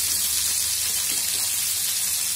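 Pieces of drumstick and potato fry in oil with a continuous, rain-like crackling hiss, close and steady without pauses.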